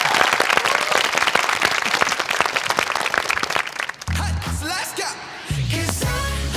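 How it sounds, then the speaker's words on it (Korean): Audience applause and clapping greet a student about to perform a dance at a doctors' mentoring competition preliminary, loud and dense for about four seconds before giving way to music and cheering. "큰 박수 부탁드립니다."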